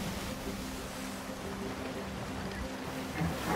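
Sailing ship at sea in the video game Sea of Thieves, with a steady wash of waves, water and wind around the hull, moderately loud and continuous, swelling slightly near the end.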